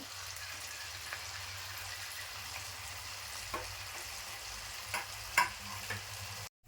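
Cabbage manchurian balls fry in hot oil, a soft continuous sizzle and crackle with occasional faint clinks, fairly quiet and without talking, ending abruptly.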